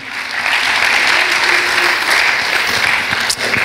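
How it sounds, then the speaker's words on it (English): A church congregation gives a loud, sustained round of hand clapping in praise during a Sunday service, dense and steady throughout with a brief dip near the end. "Why don't we give the Lord a hand clap of praise right now for how good he is"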